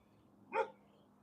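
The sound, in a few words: dog barking through a fence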